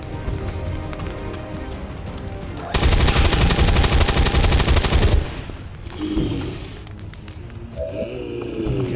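Gunfire in the XCOM video game: a loud, dense automatic burst of rapid shots rattling for about two and a half seconds, preceded and followed by quieter game ambience and mechanical sounds.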